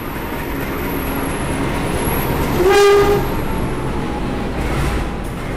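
A train rumbles steadily nearby as it arrives at an Indonesian railway station, a loud horn sounding once midway, over a constant wash of station noise.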